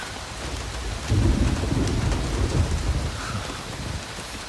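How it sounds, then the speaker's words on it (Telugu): Heavy rain pouring steadily with deep rolling thunder swelling in from about a second and rumbling on, loud and close, with no voices. "మంచి వర్షం."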